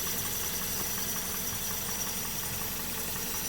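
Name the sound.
Daihatsu Be-Go (Toyota Rush) engine idling, hood open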